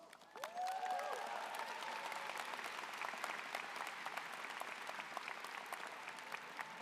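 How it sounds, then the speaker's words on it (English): An economics commencement crowd gives sustained applause for a prize winner, a soft, distant wash of many hands clapping that rises quickly and keeps going with little change. "I know you're applauding for me"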